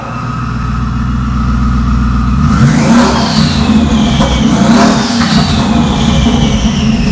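Twin-turbo Shelby F150 pickup engine revving hard with its electric exhaust cutout opened, starting as a steady low rumble then surging into loud, rising and falling revs up close for several seconds, no talking.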